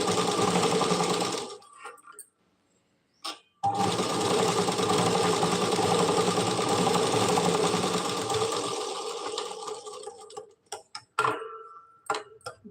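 Sewing machine stitching stiff buckram canvas into the hem of a pyjama for a Punjabi dress, running loud and steady in two long close bursts with a brief pause, then a few short stop-start stitches at the end.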